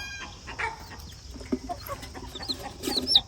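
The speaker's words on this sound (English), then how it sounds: "We got some loud chickens this morning" Several chickens cluck and squawk in scattered bursts, with a few sharper high calls near the end, fairly close over a busy farmyard background.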